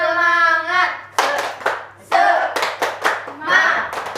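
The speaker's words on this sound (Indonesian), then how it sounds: "Kalian tahu tepuk semangat?" A classroom of children performs the tepuk semangat clapping chant, sharp rhythmic hand claps in bursts alternating with chanted voices, fairly close and loud.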